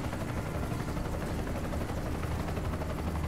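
Helicopter in the video game Bulletstorm, a steady loud rotor-and-engine drone filling the whole stretch with no talk over it.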